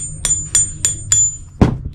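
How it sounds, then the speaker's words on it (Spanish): Hammer striking a metal chisel to pry loose a thin heel from a women's boot during repair: four evenly spaced, bright metallic taps ring briefly, followed by one heavier, duller knock and a softer tap. "Yo lo voy metiendo, lo voy martillando."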